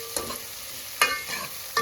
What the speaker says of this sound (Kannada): ನಾನು ಸ್ವಲ್ಪ ಒಗ್ಗರಣೆಲಿ ಕರಿಬೇವು ಸೊಪ್ಪು ಹಾಕ್ತೀನಿ